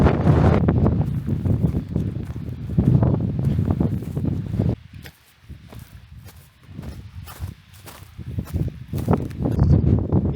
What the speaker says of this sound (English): it seems to me like we're gonna have this like horrible gusty wind for the rest of the day.